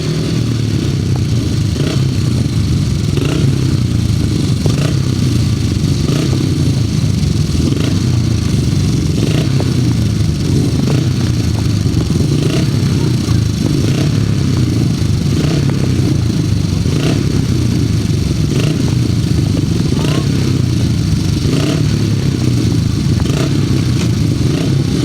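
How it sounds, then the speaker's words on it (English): 500cc sidecar motorcycles race at a grasstrack meeting, engines roaring loudly and continuously with revving, clattering and scraping as the outfits circle the track. "Start the second leg of the second heat of the 500 sidecar."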